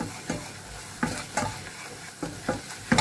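A spoon stirs onion, garlic and veal jus in a sizzling pan, with a steady frying hiss broken by regular scraping strokes about every half second to second, close and fairly loud.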